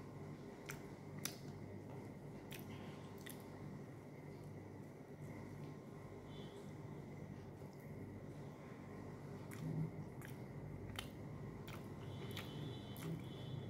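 Someone eats food close to the microphone, producing soft wet squishes and faint sharp clicks and taps, spaced irregularly over a low steady background hum, with no talking.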